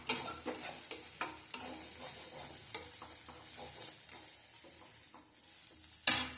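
Snake gourd stir-fry with grated coconut being sautéed in a pan, a spatula scraping and stirring in a series of sharp clacks over a soft, steady sizzle, with a final louder knock against the pan.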